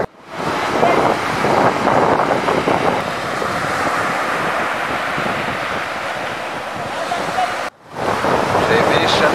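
Surf breaking steadily on a beach at sunrise, with strong wind buffeting the microphone throughout and a brief dropout near the end.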